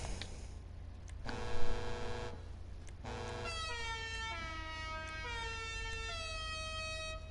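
Car horn in GTA 5 Online Arena War, sounding in steady sustained blasts and then shifting into a rising, stepped musical horn tune that continues to the end over background game noise.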